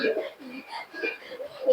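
Pigeons kept by a long-time fancier, including fourteen-tailed birds and hens, coo in soft, low, rhythmic bursts, close by and repeating through the moment, with a person talking over them.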